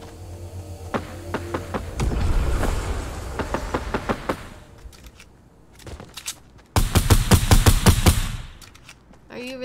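Fortnite gunfire rattles out in two loud bursts of rapid automatic shots, separated by a quieter stretch with a few scattered single shots.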